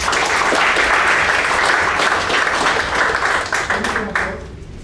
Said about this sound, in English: So let us give a big round of applause.